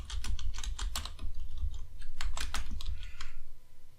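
Code is typed on a computer keyboard in quick, close clusters of keystrokes with short pauses between bursts, over a low steady background hum, with no talking.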